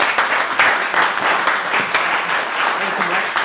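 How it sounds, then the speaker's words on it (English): Audience applause at a business development talk about LinkedIn, a dense steady wash of many hands clapping close by for the whole stretch with no voices over it. "let's give Katie a round of applause."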